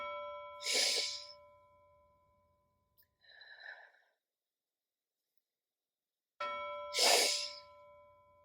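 A bell rings clearly twice, with bright sustained tones a few seconds apart. Between the strikes comes a soft breathing sound, and there is no other talk.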